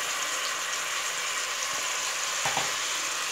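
Goat head pieces fry in a pan with a steady, dense sizzle that runs throughout, broken by a couple of brief clanks near the end, with no voices.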